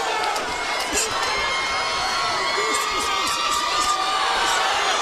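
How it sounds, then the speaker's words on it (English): A boxing arena crowd chanting for Roy Jones Jr. during his fight with Jeff Lacy, a dense roar of voices with rhythmic shouts, heard under a ringside commentator talking. "And the chant going up in the crowd."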